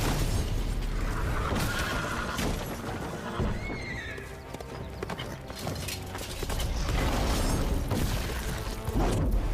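In the game Witcher 3 a horse whinnies amid loud clattering gameplay noise, with crashes and hoofbeats under the call.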